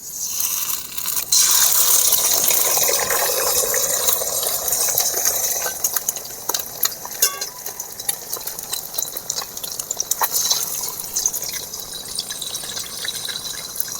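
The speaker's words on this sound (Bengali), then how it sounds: "ডিম ভাজার জন্য কড়াতে আমি তেল দিয়ে দিয়েছি। এবারে ডিম দিয়ে দেবো।" Egg poured into hot oil in a wok sizzles and crackles loudly at first, settling into a continuous frying hiss with scattered pops and scraping of a spatula.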